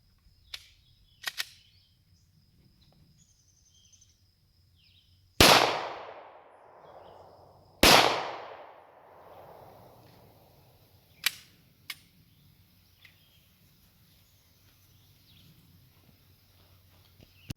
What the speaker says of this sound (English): So, all right, 2 rounds, jacketed hollow point.